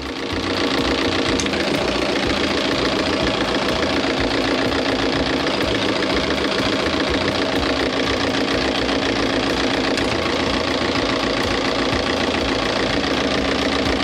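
A boat's marine engine idles with one cylinder's fuel line opened as a test, giving a loud, steady, continuous mechanical drone with a faint knocking texture and no change in tone throughout.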